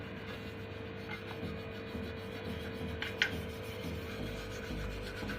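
Steady rubbing of compound across a motorbike's steel silencer cover plate, a soft continuous rasping scrape close by with a brief sharper scuff partway through and a faint background hum.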